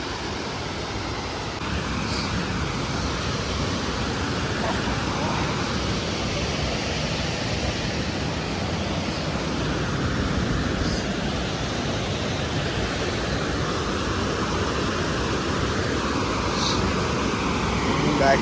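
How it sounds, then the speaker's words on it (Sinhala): Strong rushing water roars continuously at a bathing place near Badulla town, Sri Lanka, a loud, steady broadband wash that swells slightly over the span with no talk over it. "වතුර පාර නම් ගොඩක් අද සැර වැඩි."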